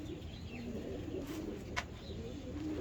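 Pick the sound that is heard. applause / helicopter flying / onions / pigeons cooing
pigeons cooing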